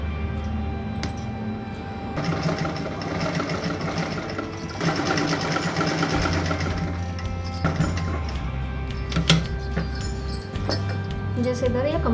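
Sewing machine stitching the open collar-neck area of a kurti, steady mechanical whirring in bursts of a few seconds, close and moderately loud, with someone talking over it.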